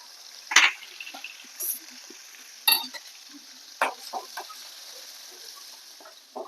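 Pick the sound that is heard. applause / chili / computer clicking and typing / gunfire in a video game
chili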